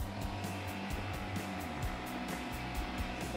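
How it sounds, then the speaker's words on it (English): An air compressor runs steadily as a load on a backup power unit during a blackout test, giving a loud, continuous mechanical drone with a fast rhythmic pulsing throughout and no voices. "First, the compressor."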